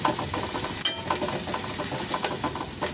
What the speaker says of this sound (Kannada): ಇದನ್ನು ಒಂದು 5 ನಿಮಿಷ ಚೆನ್ನಾಗಿ ಫ್ರೈ ಮಾಡ್ಕೊಳ್ಳೋಣ.